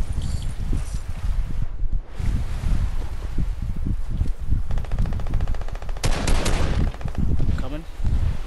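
Video game gunfire in a duo squad battle royale match, with bursts of rapid automatic shots and repeated single cracks over steady background noise, loud and close, under brief talk.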